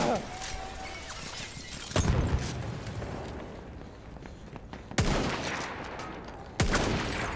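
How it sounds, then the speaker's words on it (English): Grenade blasts in Battlefield 1 burst out three times, each a sharp loud crack that decays into debris and rumble, with gunfire and battle noise between them. "Oh, that's a grenade."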